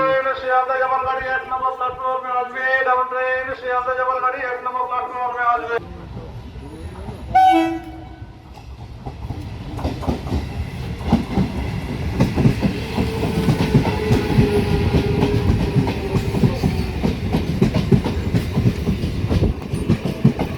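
A Kolkata suburban local train, Maslandpur to Dum Dum, rumbles along with a steady clattering of wheels on the rails. A train horn sounds briefly partway through, and the clatter stays loud and continuous to the end.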